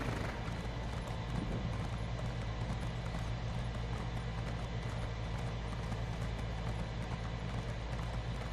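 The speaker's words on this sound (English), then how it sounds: "Let my horse's stamina build back up again so I can speed along." A horse's hooves gallop in a steady rapid rhythm in a video game, running continuously at a moderate level under a constant background hum.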